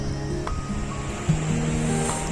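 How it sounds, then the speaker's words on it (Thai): A waterfall's water rushes and flows steadily nearby at Khlong Lan, Kamphaeng Phet, a constant broadband wash with faint tonal sounds, including small birds calling, drifting over it. "ได้ยินเสียงน้ำไหลผ่าน"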